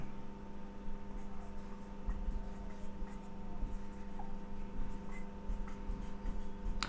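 Pen writing notes on paper, a faint, continuous scratching over a steady electrical hum in a quiet room, close and soft with no talking.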